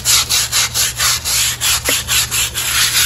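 Rhythmic back-and-forth scrubbing as a cloth or brush wipes bleach over moldy outdoor patio pavers, about a dozen even strokes close up and steady, with a low hum underneath.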